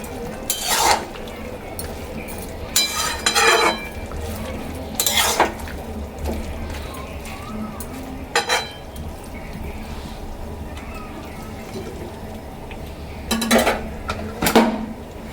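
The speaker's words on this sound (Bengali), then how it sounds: "ছোট 1 চামচ চিনি, সবগুলো ভালো করে একবার মিশিয়ে নেব।" Spinach and sugar are stirred in a pan, with a utensil clinking and scraping against the metal in short bursts separated by quieter gaps of low sizzling.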